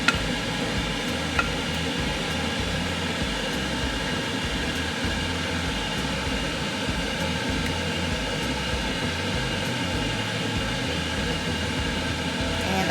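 Pork meatballs simmering in a pan of creamy, cheesy white gnocchi sauce, a steady close bubbling and sizzle that continues evenly throughout with no talking.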